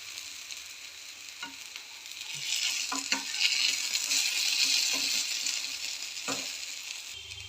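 Food roasting in a hot pan with a steady broad sizzle that swells in the middle, punctuated by scattered light clinks and scrapes of stirring, no voices.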